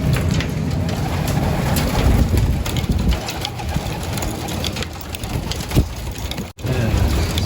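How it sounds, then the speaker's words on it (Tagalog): Pigeons coo and flutter nearby amid steady outdoor background noise, with a few sharp knocks and rustles throughout. "Ito yung mga kalapati natin mga kalapatids."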